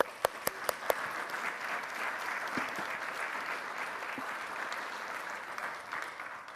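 An audience claps for programme graduates at a conference, a few sharp early claps swelling into steady, moderately distant applause that holds to the end.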